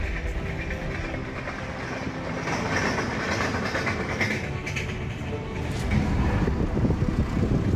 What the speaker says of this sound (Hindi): रेल ट्रैक साथ साथ ही जा रहा है और उस पे से अभी भी ट्रेन गई है